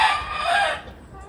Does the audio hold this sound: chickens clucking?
yes